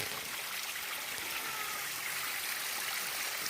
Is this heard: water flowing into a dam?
yes